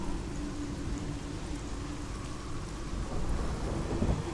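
Low rumbling thunder from a lightning storm in the game Hellblade: Senua's Sacrifice, a continuous dark roll over steady rain, swelling slightly louder toward the end.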